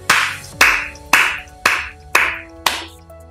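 Six sharp, evenly spaced hand claps, loud and close, each with a short ringing tail, standing alone without talk.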